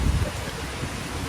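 Dense hiss of rain falling at night outside Shinjuku South Exit in Tokyo, a steady wash of noise with wind and low street rumble beneath.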